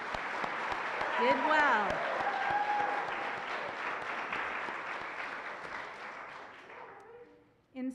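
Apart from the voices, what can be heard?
applause for graduating seniors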